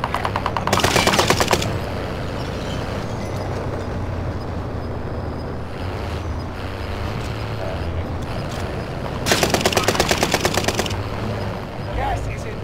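Automatic gunfire in a battle-royale style video game, with two loud, rapid bursts of shots about a second long each, near the start and again near the end, over constant game ambience and occasional player voices.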